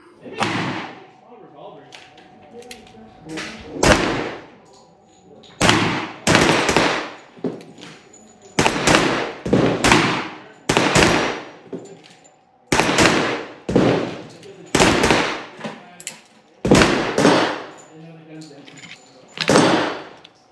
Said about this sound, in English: All right, let's go take a look at the shooting.